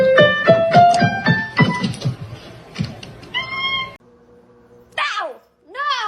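A house cat meows repeatedly, several short close cries over clicking and tapping, then a few longer rising and falling meows after a brief quiet gap; a voice speaks briefly.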